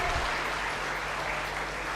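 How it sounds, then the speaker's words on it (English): An audience at a university orientation day applauds, a dense, continuous clatter of many hands clapping at a steady level for the whole stretch, with no one speaking over it. "Let's give a big round of applause for Mishra ma'am."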